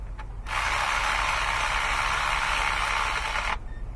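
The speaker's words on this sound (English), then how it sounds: "Grab your little manual ratchet." Small manual ratchet tightening a spark plug on a Toyota Sequoia 4.7 V8, giving one continuous rapid clicking run of about three seconds, close and alone.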